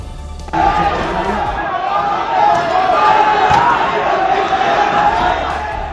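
A rioting crowd near Turkman Gate in Delhi, a dense roar of many voices that swells abruptly and holds steady, loud and continuous with shouting mixed in.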